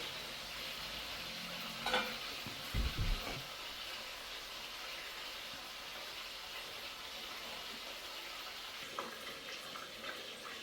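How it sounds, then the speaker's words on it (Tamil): Pieces of tuna fish sizzle and fry in a hot pan, a soft steady hiss throughout with a few brief clatters and stirring bumps near the start. "இப்போ மீனெல்லாம் போட்டாச்சு பொரியட்டப்புறம்"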